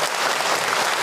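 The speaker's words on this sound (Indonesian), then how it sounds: "Tepuk tangan untuk kita semua." Audience at a religious lecture bursts into a brief, loud, dense round of clapping.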